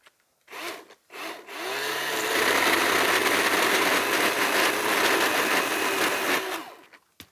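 A small battery-powered saw trims brush in tree rows. A couple of short revs are followed by a sustained whining cut of about five seconds, close and loud, with no talking.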